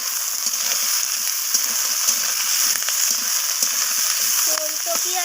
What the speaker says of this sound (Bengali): ওলকপি আর পুঁই শাকের ডাঁটিটাকে আমি নাড়িয়ে চাড়িয়ে এখানে ভাজা করে নিলাম।